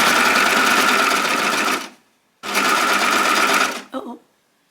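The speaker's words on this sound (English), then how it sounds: "I've got Maraflex in the sewing machine at the moment" A Baby Lock sewing machine stitches Maraflex fabric in the round: two long, steady runs of close, loud motor hum separated by a brief pause, then a short stuttering burst before it stops.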